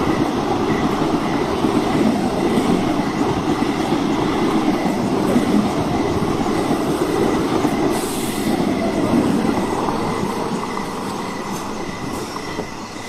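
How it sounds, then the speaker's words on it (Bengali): A train pulls into a station platform and comes to a stop, a loud steady rumble of wheels on rails with squealing and clatter that eases off gradually near the end, with no talk. "ট্রেন এসে থামে"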